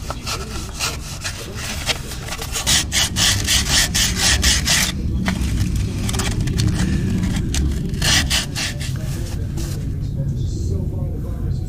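Sandpaper of 400 grit and a little WD-40 rubbing on the seal area of a heavy-duty 14000 lb trailer wheel hub, loud and close, a rapid steady back-and-forth scraping that runs almost continuously with only brief pauses.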